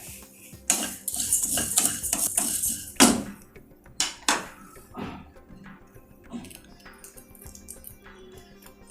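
Coriander seeds dry-roasting in a pan for coriander tea are stirred with a metal spoon, giving a near run of scraping clinks and rattles. The taps are irregular and cluster in the first half, then thin out into softer scrapes.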